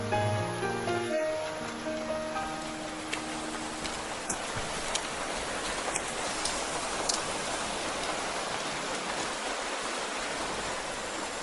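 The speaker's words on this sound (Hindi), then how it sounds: "मुझे लगता है कि अब बारिश कम हो रही है" Steady, dense rain pours down continuously, close and fairly loud, with a brief low tonal hum at the start fading beneath the hiss.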